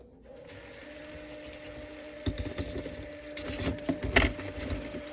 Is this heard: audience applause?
no